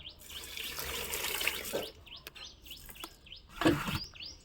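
A garden tap runs water for watering plants outdoors, a close splashing flow that swells and ebbs in bursts, with birds chirping in the background and no talking.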